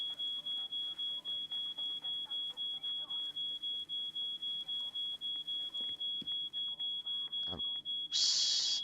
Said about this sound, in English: can we just switch off that alarm?